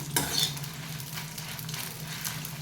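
Pickle mixture for bitter gourd fry heating in a pan gives off a steady low sizzle, with a brief clink of utensil or stirring near the start, close and moderately quiet, no talking.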